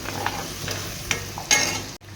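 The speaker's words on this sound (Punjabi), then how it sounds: "ਚੰਗੀ ਤਰ੍ਹਾਂ ਪਿਆਜ਼ਾਂ ਨੂੰ ਭੁੰਨ ਜਾਣ ਤੇ ਫਿਰ ਪਾਵਾਂਗੇ ਟਮਾਟਰ ਲੋ ਜੀ ਤੜਕਾ ਆਪਾਂ ਲਾ ਲਈਏ" Chopped onions fry for a tempering in a pan, giving a steady sizzle throughout with a few scraping stirs of a spoon before it cuts off abruptly.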